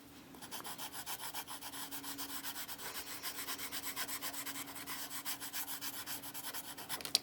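A pastel pencil shades on Clairefontaine PastelMat paper in quick, even back-and-forth strokes, making a close, dry scratchy rubbing that pulses steadily throughout.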